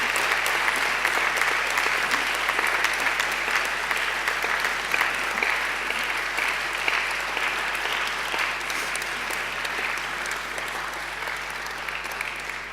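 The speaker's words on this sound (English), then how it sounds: "And now I invite you to give them a mighty round of applause" Graduates at a graduation ceremony applaud their families and friends, a long, steady round of clapping from a large crowd in a hall that fades slightly toward the end.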